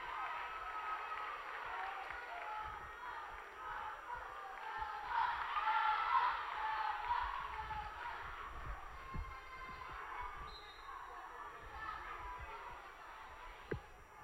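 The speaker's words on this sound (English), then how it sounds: "The crowd is electric." Crowd at a women's high school volleyball match cheers and applauds after the Eagles score a point: a steady, roaring wash of cheering and clapping that swells in the middle and stays dense throughout.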